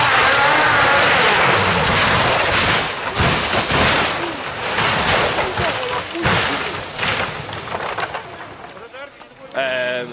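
A race car crash from contact on a straight during a 2024 motorsport event: loud, dense broadband roar with scattered thuds and impacts over about ten seconds, under continuous commentary.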